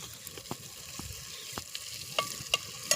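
Chicken frying in a pan, with water poured in to set off sizzling and crackling, stirred and spattering in short bursts, close and moderately loud with no talking.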